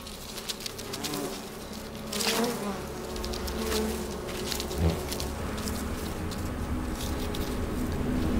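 A swarm of bees and hornets buzzes during a hornet attack on a colony, a close, continuous droning hum with small flurries and occasional soft taps, rising slightly toward the end.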